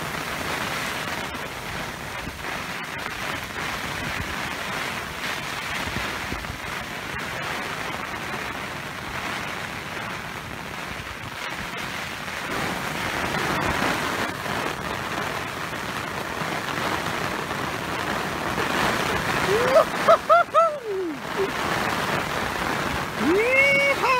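Heavy rain driven by strong wind pours steadily on a carp fishery for a long stretch, a dense roaring hiss with gusty surges. Brief voices and a sharp exclamation come near the end.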